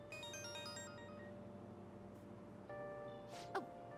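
A mobile phone ringtone from the Persona 5 Royal video game plays as a bright repeating melodic jingle, fairly quiet over a low background hum, pausing and then resuming with a short click near the end.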